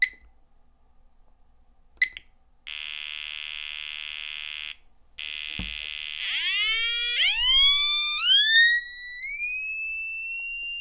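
A Thermo RadEye PRD radiation detector in finder mode gives a loud, steady electronic alert tone that breaks off and resumes, then changes into a series of rising, chirping sweeps, close and alone after a few faint clicks.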